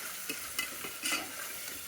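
Ingredients for bagara rice fry in a pan with a soft, steady sizzle and a few quiet stirring scrapes, no voices over it.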